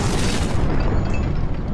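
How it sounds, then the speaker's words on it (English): A tank shell explodes against village houses, a loud, dense boom that fills the clip with sustained low rumble and debris noise, with no talk over it. "With each shot, the silence of the village was interrupted by an explosion."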